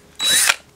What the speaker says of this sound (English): some of them you really got to drill through